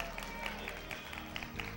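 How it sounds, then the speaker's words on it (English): A church congregation claps and cheers during a sermon, a steady dense wash of hand claps and crowd noise with scattered sharper claps throughout. "Give him a shout and a hand clap."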